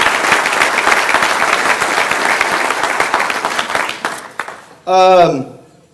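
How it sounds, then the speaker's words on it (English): A crowd at a Little Rock Touchdown Club meeting applauds loudly with dense, steady clapping that fades out, followed by a short burst of voice at the end. "Let's give you a round of applause."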